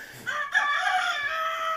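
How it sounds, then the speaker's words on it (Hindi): A rooster crows loudly in a goat farm pen, one long drawn-out cock-a-doodle-doo held close by with little else around it. "एक मुर्गा है उस शोर मचाना शुरू कर दिया और बीच बीच में उसका आवाज़ आएगा"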